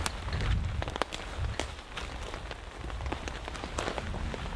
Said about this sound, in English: This is the 3rd week straight of solid rain.